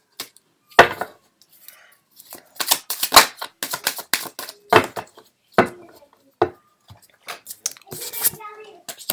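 A deck of oracle cards being shuffled by hand, giving a run of close, crisp riffling bursts and soft flutters with brief pauses between them, heard alone at close range.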